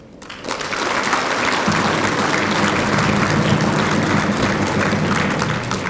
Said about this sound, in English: a history-making achievement worthy of a round of applause